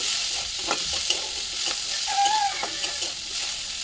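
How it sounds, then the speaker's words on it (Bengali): Chopped onion hits hot oil for a crab and taro-stolon chorchori, frying with a steady close sizzle while a spoon scrapes and stirs in short strokes; nobody speaks. "তেলটা গরম হয়ে গেছে, ওর মধ্যে পেঁয়াজ কুচি দিয়ে একটু নেড়ে চেড়ে নেব।"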